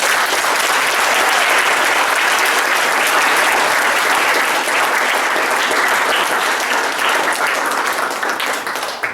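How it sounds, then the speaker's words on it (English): A student audience at a 2019 senior project presentation gives the presenter, Luke, a loud, dense round of applause that holds steady and full for about nine seconds before starting to taper at the end. "Let's give Luke another round of applause."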